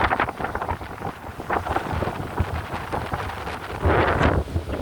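Strong wind blows steadily on Alona Beach by the sea and buffets the microphone with loud rushing gusts, growing rougher near the end.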